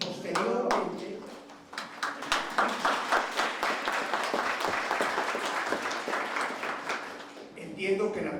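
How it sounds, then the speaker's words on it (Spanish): A room full of audience members applauding, dense clapping that swells and holds for several seconds before thinning out, with a voice speaking at the start and again as it dies down. "entiendo que el aplauso es para la Universidad de Harvard"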